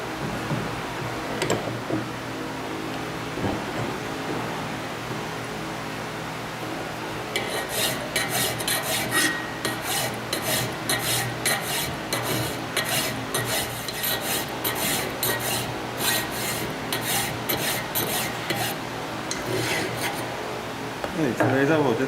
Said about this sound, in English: filing as close to the line as possible